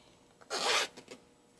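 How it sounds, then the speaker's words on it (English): A zipper on a knitted diamond eyelet wrist purse is pulled open in one short, quick rasp, faint and close, followed by a couple of small rustles. "let me unzip it"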